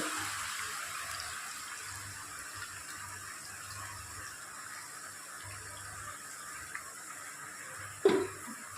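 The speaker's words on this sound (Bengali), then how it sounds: "এবার দিয়ে দেবো জল।" Water pours steadily from a tap or jug into a cooking pan for a Bengali pumpkin and Malabar spinach curry, a soft continuous rush with a brief clatter near the end, no talk.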